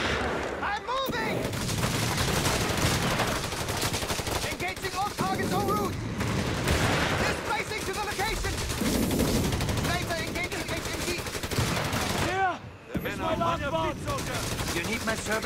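Dense battle gunfire in the World War II strategy game Company of Heroes 3, with rapid MG-42 machine-gun bursts, rifle shots and explosions running continuously under shouted unit voice lines.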